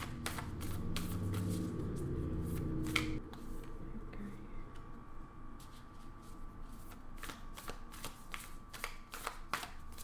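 Tarot cards, moon cards among them, are shuffled close up during a reading: a dense riffling burst for about three seconds, then softer, intermittent card slides and flicks, quiet and with no talking.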